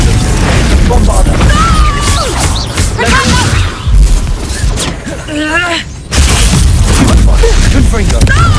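A Bombarda blasting spell goes off in the video game Hogwarts Legacy amid a loud, dense clash of magical bursts, crashes and whooshing effects, with a brief lull before the noise surges back.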